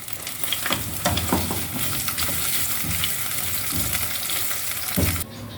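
Marinated hotdogs fry in a hot pan over high heat, a steady close sizzle with occasional stirring scrapes and spatters that continues throughout, then drops off abruptly near the end.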